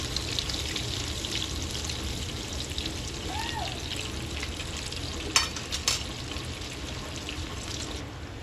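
Beef balls frying in hot oil in a pan, a steady close sizzle and crackle throughout with a couple of faint utensil clinks near the end, no talk.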